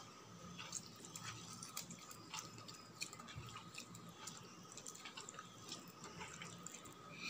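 Water runs from a tap while hands are washed in a home kitchen sink, making a faint, continuous splashing trickle with small irregular drips and spatters and no voices.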